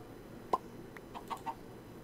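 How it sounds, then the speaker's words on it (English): Chicken in Minecraft clucking, a few short quiet clucks spaced across a faint background. "really, chicken?"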